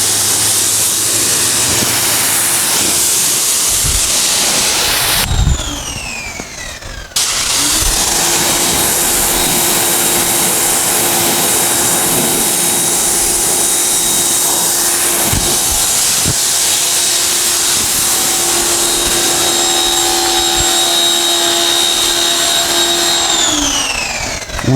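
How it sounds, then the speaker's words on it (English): A pressure washer sprays steadily during a car wash, a loud continuous hiss with a whining pump tone that drops out briefly early on, then resumes and runs unbroken to the end. "washing with this pressure washer setup, it's nice"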